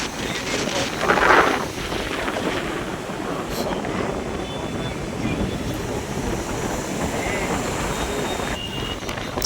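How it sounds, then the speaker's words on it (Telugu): Cold night wind at a beach in Vizag buffets the microphone with a constant rough roar, with a faint background rumble underneath and a stronger gust near the start. "బీచ్లో ఆ గాలికి ఒళ్ళు చల్లబడిపోతుంది శుభ్రంగా"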